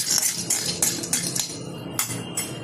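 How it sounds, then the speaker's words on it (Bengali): Peanuts are dropped into a metal kadai on the stove for light roasting, making a run of sharp, close clinks and clatters at uneven intervals. "বাদামটা ভেজে নেওয়ার জন্য ওভেনে কড়াই বসিয়ে তাতে দিয়ে দিচ্ছি বাদাম"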